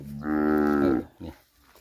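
Cattle of grey, red and black coats in a farm pen in Thailand: one loud, drawn-out moo close by, followed by a shorter low grunt, with no talking.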